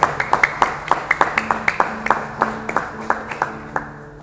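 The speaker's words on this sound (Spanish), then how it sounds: "Denle un aplauso bien fuerte al Señor" A church congregation claps in a steady rhythmic beat, sharp close claps repeating evenly for several seconds and slowly tapering off.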